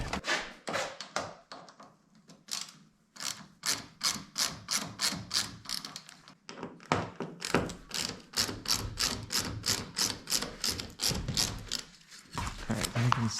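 A ratchet tightens a bolt on a Mule utility vehicle at an off-grid property, making long runs of rapid, close, sharp clicks in steady strokes with brief pauses between sets.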